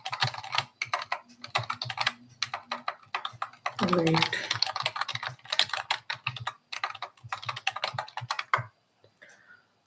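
Rapid typing on a computer keyboard, dense close clicking keystrokes in bursts with brief pauses, someone speaking briefly over it, then typing stops near the end.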